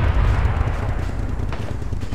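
Missile blast in a military shooter game, a heavy low rumbling boom strongest at the start and rolling off into a sustained dull roar, loud with no talk over it.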